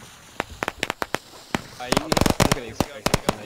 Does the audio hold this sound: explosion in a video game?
yes